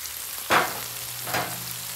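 Chicken and tomatoes fry in butter on a flat griddle, a continuous hiss broken by two brief louder bursts of sizzle, close and without speech.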